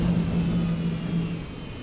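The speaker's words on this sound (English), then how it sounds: "I'm sorry for screaming because the engine's too loud" A plane engine in Garry's Mod (LFS planes) drones with a steady, loud mid-pitched whir and a sustained tone that fades slightly toward the end, with no voices.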